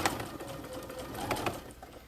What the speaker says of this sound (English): So I'm going to start by back stitching just a couple stitches.